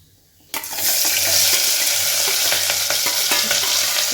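Garlic, green chili, curry leaves and onion hit hot oil in a pan with a sudden burst of loud, steady sizzling that continues with scattered crackles and stirring.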